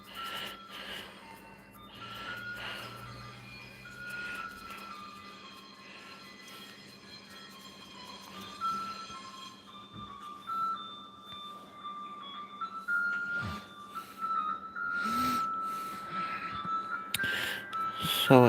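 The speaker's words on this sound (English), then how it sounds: "So if you hear music in the background, that's the ice truck outside." Ice cream truck music plays outside, a thin looping jingle with a steady melody that carries on faintly over a long stretch of background noise.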